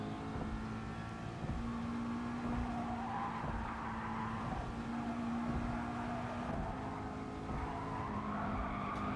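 Race cars circling Le Sarthe in a racing video game, their tyres struggling and skidding under a steady roar of engines, with one sustained whine running through the continuous, fairly quiet noise.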